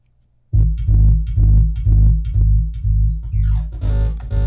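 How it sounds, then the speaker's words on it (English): Audio plugin generating a sample-and-hold square-wave effect: after near silence, a loud, deep pulsing buzz of repeated stepped bursts, with a rising sweep near the end that turns into a brighter sustained tone. "Now it's making a sample and hold square wave type behavior."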